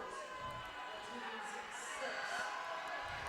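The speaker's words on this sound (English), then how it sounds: "Bayless is going to have to deal with a lot of crowd noise in order to make these." Steady crowd noise in a high school boys basketball gym during free throws, a continuous murmur of cheering and shouting voices under a commentator talking.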